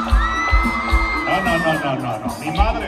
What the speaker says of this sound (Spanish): Grito de las mujeres solteras.